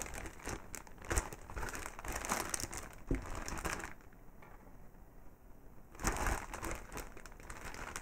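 Plastic packaging crinkles and crackles while a face mask is unboxed, close and busy with irregular rustling bursts and a brief quieter pause midway.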